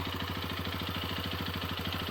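A Hero Xpulse 210 motorcycle engine running, a steady rhythmic mechanical throb with even pulsing and no clear rise in pitch, close and constant throughout.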